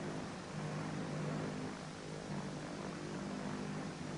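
A propeller-driven mail plane drones steadily in flight, its engine hum constant and moderately loud throughout, with no talking.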